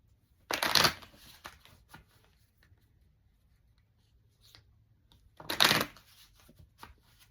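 Deck of oracle cards being shuffled, two brief close riffling bursts several seconds apart with quiet handling between.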